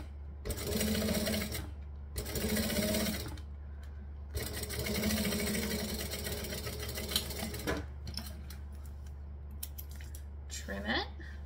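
A sewing machine runs in several bursts as it stitches and back-stitches fabric, a steady close mechanical whir with short pauses between runs and a low constant hum beneath.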